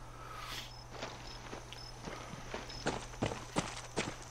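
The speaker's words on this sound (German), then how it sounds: "Da läuft ein Pferd ohne Reiter." Riderless horse galloping in the video game Far Cry 6: a run of rhythmic hoof beats that grows louder toward the end, over a steady low hum and soft ambient game noise.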